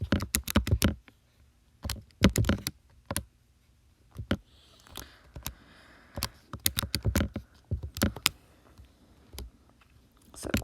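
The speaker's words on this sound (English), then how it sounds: "So quickly just typing that in as fast as I can." Quick bursts of button clicks from a calculator as a string of numbers is keyed in, close and crisp, coming in uneven clusters with short pauses between runs, with no talking.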